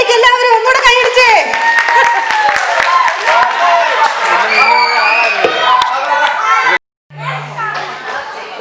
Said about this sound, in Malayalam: എല്ലാവരും ഒന്നുകൂടെ കൈയടിച്ചേ